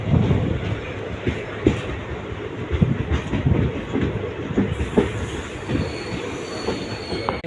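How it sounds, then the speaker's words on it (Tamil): A passenger train rolls into Paramakudi Junction on the Madurai to Rameshwaram line, its wheels squealing and clattering steadily over the rails, loud and close throughout with rhythmic clicks and a high metallic whine. "கரெக்டாக எட்டு முப்பதுக்கு பரமக்குடி ஜங்ஷன் வந்துருச்சுங்க வண்டி"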